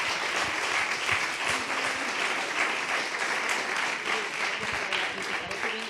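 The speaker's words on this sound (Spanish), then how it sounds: "Yo os pediría un fuerte aplauso para ellos y ellas." Audience applause at the closing event of an international culinary entrepreneurs' forum, a steady, full round of clapping from a sizable crowd that stays loud and even throughout.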